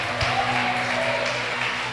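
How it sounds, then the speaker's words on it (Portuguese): A church congregation claps loudly for Jesus, a continuous crowded patter of hands with a low hum running underneath. "Vamos aplaudir bem forte, bem maravilhoso o Senhor Jesus."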